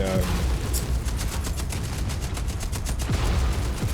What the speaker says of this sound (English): Use my machine gun